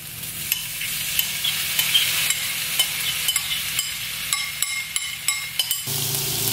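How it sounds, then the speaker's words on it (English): Tofu frying in a pan with other ingredients, a steady loud sizzle under repeated sharp clinks and scrapes of a spoon stirring and pushing food around, close up with no voices. "spoon and just mix it all around. So I just cook everything on the same pan."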